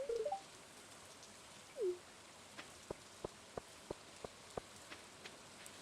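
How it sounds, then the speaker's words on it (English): Rain in the farming video game Stardew Valley: a steady soft patter under a series of evenly spaced, crisp droplet ticks, preceded by a couple of short chirp-like tones, with no talking. "The raindrops keep waking up my mom."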